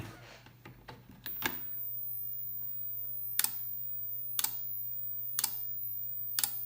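A GJS 25 V 20 A battery charger under repair clicks as it fails to start, giving sharp relay clicks about once a second over a low steady hum, loud and close with no talk.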